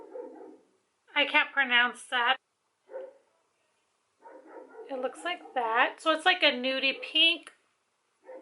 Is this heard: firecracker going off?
no